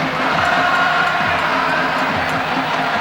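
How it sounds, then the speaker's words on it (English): A big indoor crowd of Spanish and Brazilian fans at the 1996 futsal World Cup final in Spain sings and cheers continuously, a dense, loud roar of chanting voices that fills the whole stretch without a break. "Spaniards in the crowd trying to out-sing the Brazilians"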